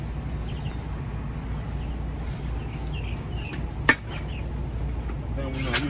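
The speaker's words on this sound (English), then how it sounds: "We want to spray some WD-40 on it." WD-40 hisses from an aerosol can onto a part of a 6.0 LS engine, a steady close spray over engine-bay background noise with one sharp click partway through.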